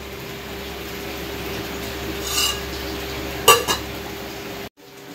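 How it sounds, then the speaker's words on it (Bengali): A metal wok (kadai) is scrubbed and washed in a kitchen: a low steady hum runs beneath a few sharp metallic clinks and scrapes that come close together near the middle, then the sound cuts off. "কড়াইটা মেজে দিই"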